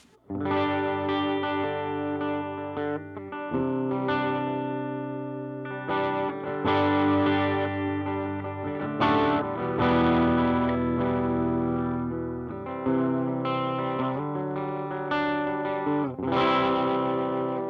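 Electric guitar through a Blood Oath pedal with drive turned down plays chords and melodic phrases, slightly crunchy but clearer than heavy distortion, continuous and up close.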